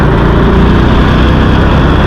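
A motorcycle engine idles nearby in a steady, loud, low drone with no pauses and no talk over it.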